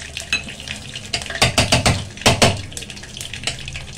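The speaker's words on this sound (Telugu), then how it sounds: "1 టీ స్పూన్ ఆవాలు, 2-3 ఎండుమిర్చి వేసుకుంటున్నా" A teaspoon of mustard seeds and two or three dried red chillies fry in oil for tomato pachadi, loud crackling bursts and sharp pops clustering over a sizzling bed, with a clink of the pan.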